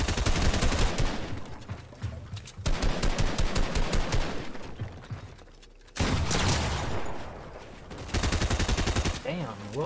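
Fortnite gunfire rattles in dense, rapid bursts during a competitive zone-wars match, loud sustained volleys broken by two brief pauses across ten seconds, with faint voices underneath.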